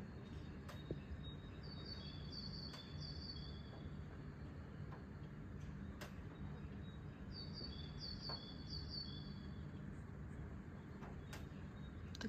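Birds sing at dawn around 4 a.m. in Novokuznetsk, with two short bright chirping trills, a few sharp tweets and a low, steady background rumble.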